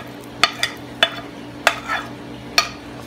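Fried ivy gourd (kowakka) being stirred into a tempering in a pan, with a low sizzle underneath and a handful of sharp utensil scrapes and clacks against the pan at irregular intervals.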